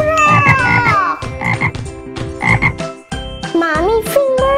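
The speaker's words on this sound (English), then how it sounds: "Frog." Loud, rhythmic frog croaking repeats in several dense bursts, each a rapid series of throaty pulses, close and alone with no talking.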